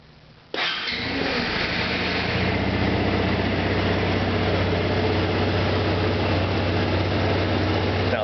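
A 2010 Honda SH 150i scooter cranks briefly, catches and settles into a steady, smooth idle, recorded close up with no talking.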